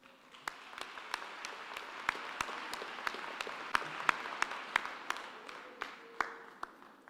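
Audience applause at a university graduation ceremony in Qwaqwa, a steady wash of many hands clapping with a few louder individual claps standing out, moderate in level and sustained throughout.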